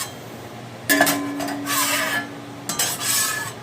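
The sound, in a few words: scraping a VEVOR griddle surface with a spatula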